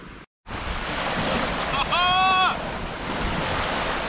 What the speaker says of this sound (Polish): Wieje wiaterek.